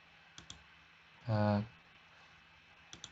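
A computer mouse clicks once in a short, distinct burst, with a few faint lighter taps before and after, heard near and quiet in a still room.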